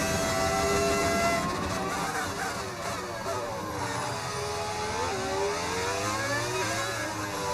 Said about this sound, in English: What engine sound are you using? It's a the V10 engine.